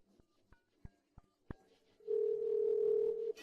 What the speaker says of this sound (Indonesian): Oke, telepon dia.